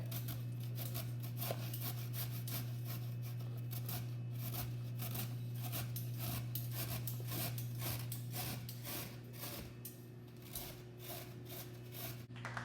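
Carrots rubbed against a kitchen grater make a quiet, continuous scraping and rasping, with a steady low hum underneath and no talking.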